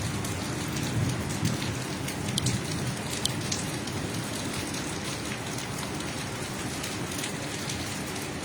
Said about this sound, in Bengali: লং টাইম বৃষ্টি, অর্থাৎ সেই বিকেল থেকে শুরু হয়েছে বৃষ্টি